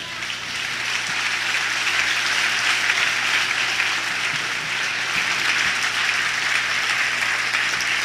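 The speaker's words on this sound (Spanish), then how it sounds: "dale un fuerte aplauso a Él" An audience at a Christian worship gathering breaks into a strong, continuous round of applause, a broad, even roar of clapping with a low steady hum beneath.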